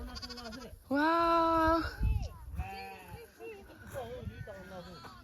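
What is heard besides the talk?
sheep bleating on a farm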